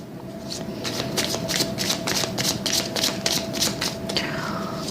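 Tarot cards being shuffled by hand in a steady run of crisp riffling bursts, close and fairly loud against a soft constant background hum, with no talking.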